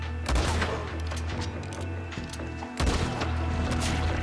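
A sniper-style rifle in the video game Red Dead Redemption 2 fires two sharp, loud gunshots a couple of seconds apart, each leaving a short echoing tail over game background noise.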